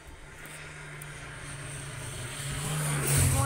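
Vehicles of the Tour de Bretagne cycling race convoy climbing a bridge on a street in Saint-Jacut-de-la-Mer, a steady engine rumble that swells as they approach and grows loudest near the end.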